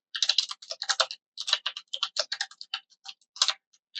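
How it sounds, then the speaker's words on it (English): Close, crisp keystrokes on a computer keyboard come in quick irregular bursts with short pauses, alone in an otherwise quiet room. "While you're typing that out"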